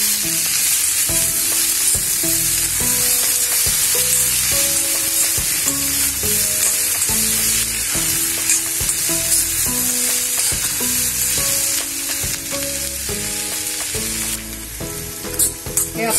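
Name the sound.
sautéing onion and tomato masala in a pan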